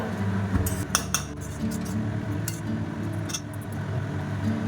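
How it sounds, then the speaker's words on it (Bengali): A utensil stirs a dish topped with chopped coriander in a pan on a gas stove, giving close metallic clinks and scrapes in a continuous run with a few sharper knocks, no talking. "দিয়ে ভালো করে একটু নেড়ে চেড়ে গ্যাসের ফ্লেমটাকে অফ করে দেব"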